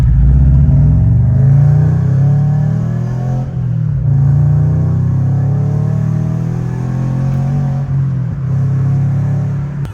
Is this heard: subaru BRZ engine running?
yes